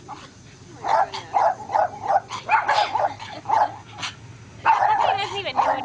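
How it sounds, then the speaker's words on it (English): Small dogs bark in rapid, yappy bursts close by, some barks overlapping, with a pause before a fresh flurry near the end; people talk underneath. "He doesn't even know what he's barking at."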